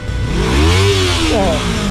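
An engine revs hard as the throttle is opened, a loud, rising roar that climbs in pitch and holds high for about two seconds before cutting off abruptly.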